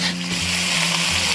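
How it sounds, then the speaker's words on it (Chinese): Green and red peppers stir-fry in a pan with a dense, steady sizzle and a constant low hum underneath. "就是一定要这样子先煸炒一下。"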